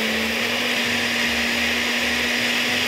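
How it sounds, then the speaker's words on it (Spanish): A blender running continuously as it purées crepe-like batter for baby food, a loud steady motor whir with a pulsing churn, close and unbroken by speech. "Y esto, pues, lo vamos a licuar hasta que nos quede todo bien súper integrado."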